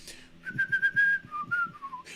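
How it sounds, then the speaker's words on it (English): A person whistles a short melodic theme tune alone, the notes clear and steady, stepping down in pitch toward the end. "I still haven't recorded myself whistling the theme"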